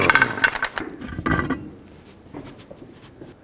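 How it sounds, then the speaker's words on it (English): Ratchet with a 22 millimeter socket removing the eight lug nuts from a Chevrolet Express wheel, giving a quick burst of clicking and clattering metal followed by quieter scattered clicks, close up with no talk. "with the 22 millimeter socket as well, go ahead and take off all 8 of your lug nuts"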